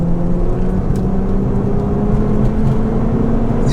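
A hybrid-turbo Ford Fiesta ST with 302 bhp accelerating hard on the road, heard from inside as a steady, loud engine drone with rising tonal whine, continuous and alone without talk.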